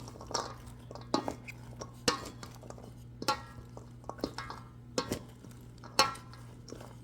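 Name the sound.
mixing cabbage and tomato salad in a bowl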